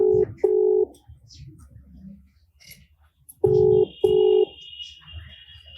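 A phone dials out to a Cantonment MLA: two pairs of sharp keypad tones with a quiet pause between them, then a steady high call tone.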